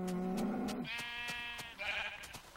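A sheep in Minecraft bleats repeatedly in wavering, drawn-out calls, with a few faint clicks under it.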